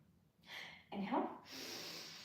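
A deep, breathy inhale taken during a core-balance workout, a rushing airflow swelling for about half a second between softer hissy breaths, close and fairly loud.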